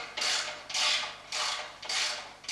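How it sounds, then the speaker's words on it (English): A pretensioning spindle is turned by hand to raise a drive motor on a Rosta motor base. Four evenly spaced rasping, creaking strokes sound close and steady, with no voices. "The drive motor can be raised by simply turning the pretensioning spindle."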